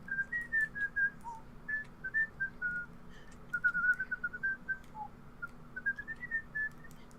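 A person whistles a melodic tune alone, bright clear notes rising and falling in short phrases, fairly quiet and close with a low steady hum underneath.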